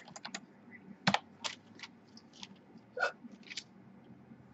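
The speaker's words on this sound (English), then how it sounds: "Sorry, hiccups." Several short hiccups break out amid quiet computer keyboard typing, with one sharp, louder hiccup near the middle and another a couple of seconds later.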